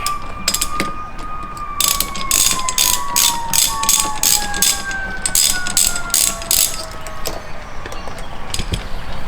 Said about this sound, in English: I've got a 16mm socket, and this is gonna be torqued down